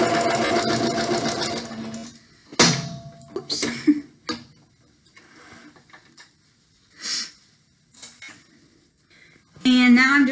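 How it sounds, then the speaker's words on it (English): A sewing machine stitches fabric for a pillowcase in short bursts, backstitching with brief reverse runs between quiet pauses, with a faster run at the end; a person talks over parts of it. "Now right at the end I backstitch again."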